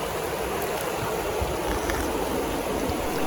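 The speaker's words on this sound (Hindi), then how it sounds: "ये आप भागीरथी नदी देख रहे हैं बिल्कुल साथ से, बिल्कुल नज़दीक से ही।" The Bhagirathi river in Harsil valley, Uttarakhand, flows fast and close by, its cold water making a loud, steady, unbroken rushing roar with no pauses or talking.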